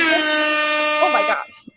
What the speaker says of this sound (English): I just like this air horn.